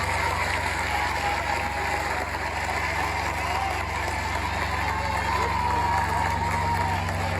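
Audience at a school awards ceremony applauding and cheering a student, a steady dense wash of clapping and crowd noise under a low hum, sustained without a break.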